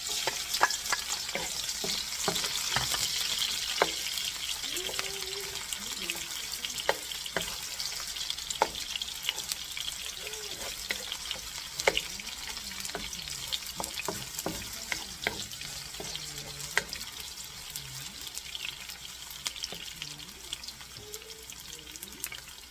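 Garlic fries in a pan with a faint, steady sizzle, scattered scrapes and taps of stirring, and running water splashing nearby, all fairly quiet and close.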